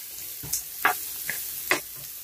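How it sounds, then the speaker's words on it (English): A spoon stirs carrots in a pot of turkey noodle soup, a few soft scraping clinks against a faint simmering background, close and quiet. "Then our carrots. Give it a stir again."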